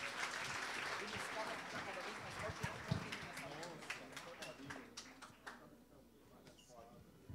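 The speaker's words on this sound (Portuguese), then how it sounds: "Uma salva de palmas para os nossos astros." Audience applause at a hypnosis comedy show, a steady wash of clapping that thins toward the end, with sparse sharp claps and talk over it.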